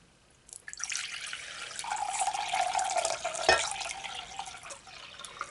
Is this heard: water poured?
yes